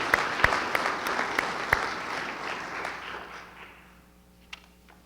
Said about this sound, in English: So round of applause for them and all of the hard work that they do.